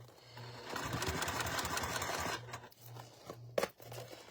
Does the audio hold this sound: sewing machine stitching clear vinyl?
yes